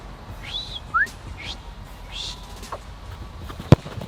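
Short whistle tones in a shooting video game, a few rising chirps scattered over a quiet background, followed by a sharp loud impact near the end.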